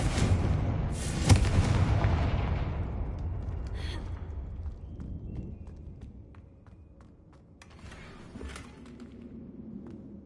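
In the Hogwarts Legacy video game, a Confringo fire spell goes off with a loud explosive boom and rumble, followed by a crackling tail that fades over several seconds into quieter background game sounds.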